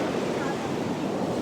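On the Atlantic Ocean shore at Melbourne, Florida, waves and wind make an even, unbroken wash of broadband noise, moderately loud and steady throughout.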